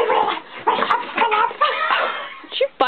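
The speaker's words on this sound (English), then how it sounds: "My dog is crazy." A dog makes a run of high, excited yips and whimpering cries close up, with short bursts that break and rise, and a brief click near the end.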